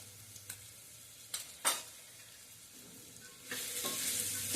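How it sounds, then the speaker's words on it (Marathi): Red pumpkin with red chili powder and goda masala is stirred in a pan, a faint low sizzle with a few sharp spatula scrapes and knocks, then the frying grows louder toward the end, no voices. "मसाले सगळे घालून झाले की पुन्हा एकदा छान हलवून घ्यायचे."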